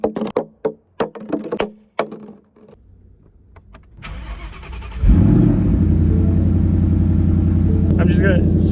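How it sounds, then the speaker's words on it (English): A Ford Mustang RTR Spec 5 S550, 10th Anniversary edition, starts after several sharp knocks and a quiet pause, with the starter cranking before the engine fires with a loud catch and settles into a steady, rumbling idle. "I'm just gonna start the car, let it heat up for a little bit"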